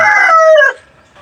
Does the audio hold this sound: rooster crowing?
yes